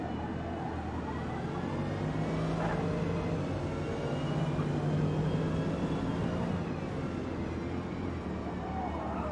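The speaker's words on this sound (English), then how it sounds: "Accelerating the Corvette." Corvette V8 engine in a Forza racing game, a steady droning engine tone held under acceleration with faint rising harmonics, continuous and moderately quiet throughout with no voices.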